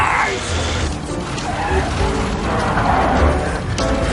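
A car's gearbox grinds during a gear shift, giving a harsh, close mechanical rasp and ratcheting over engine noise for a few seconds.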